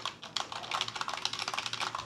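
Rapid typing on a computer keyboard routed through an effects pedal that randomizes letter case, a steady run of crisp, close key clicks with no voices.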